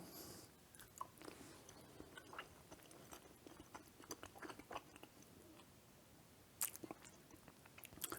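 Close, quiet chewing of a firm but soft homemade chocolate Tootsie Roll candy, with irregular soft mouth clicks and sticky smacks over several seconds and a sharper crunch-like tick near the end.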